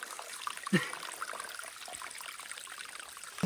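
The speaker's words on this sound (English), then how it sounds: "Now the creek is still active, so we'll get water this morning." Water from a small active creek trickles and splashes softly at a rocky wilderness campsite as it is collected, a faint steady babble with a couple of sharper splashes, close by and quiet.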